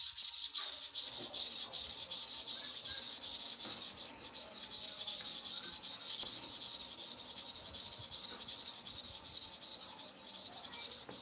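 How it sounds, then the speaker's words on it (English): A barber's clipper blade drawn in slow, light-pressure strokes across a sharpening surface, giving a steady, continuous rubbing and scraping hiss close by, with no talking. "Then I want to sharpen this side again. Light pressure,"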